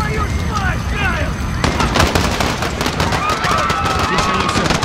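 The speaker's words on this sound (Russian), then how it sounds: "На Пикадилли Сёркус взрыв! Стрельба!" Gunfire and blasts in Call of Duty: Modern Warfare (2019) at Piccadilly Circus in London, a loud sudden burst after a moment of calmer sound, followed by rapid cracking shots and chaotic noise.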